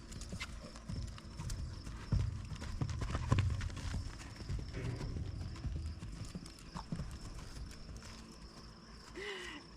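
A horse cantering under saddle in a training session, its hooves drumming a steady rhythmic clip-clop close by, with occasional snorting breaths and no talk.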